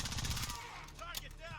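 A Scar L rifle in the Warzone video game fires a short burst of rapid shots, then quieter shots and game noise follow, with a voice partly mixed in.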